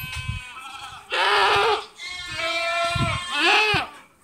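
Goats bleat in close succession, three or four loud wavering calls with brief pauses between, near and clear with little background.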